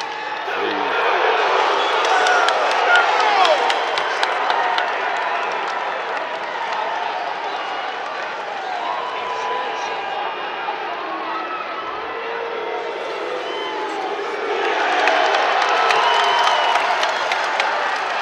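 An arena crowd roars and cheers at the state high school wrestling tournament finals. The sound is dense and sustained, swells again near the end, and a commentator's voice carries over it.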